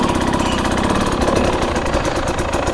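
Husqvarna TE300i dirt bike engine running close by with a rough, rapid two-stroke putter, steady and loud without revving up or down.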